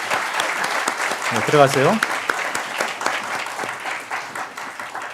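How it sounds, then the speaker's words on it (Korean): Church congregation at a Sunday service clapping in encouragement, a steady dense patter of applause running the whole time, with a brief spoken phrase partway through. "우리 이분들을 위해서 한번 격려의 박수 한번 합시다"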